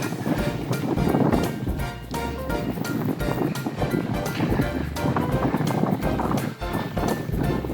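Wind gusting steadily past a cyclist on a long-distance bike tour in northern Poland, a loud continuous rush and buffeting that fills the whole stretch with no one speaking.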